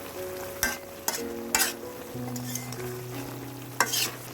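Pabda fish curry with helencha greens being stirred in a frying pan, a spoon scraping in a few distinct strokes over a steady low sizzle and simmer, close and fairly quiet.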